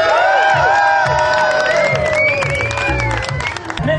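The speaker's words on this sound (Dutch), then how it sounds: "Ik wil een enorm, enorm, enorm applaus voor de Woezels." Outdoor crowd at a rally applauds and cheers for the Woezels, clapping mixed with loud whoops and shouted voices, close and sustained throughout.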